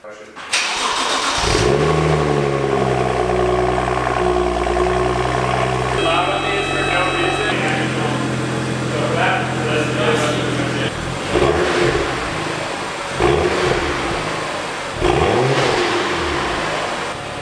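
BMW 335i E92 with the N55 engine starts up and idles loudly close by, then its engine rises and falls in several revs, with a person talking over the engine noise.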